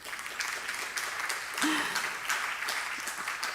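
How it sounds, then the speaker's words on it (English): An audience at a science talk gives steady, moderately loud applause after the speakers are thanked, a continuous patter of many hands with a brief voice or whistle rising midway. "Applause for you."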